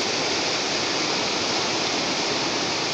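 The Ialomița river flows as a steady, loud broadband rush of water, constant and unbroken throughout with no voices.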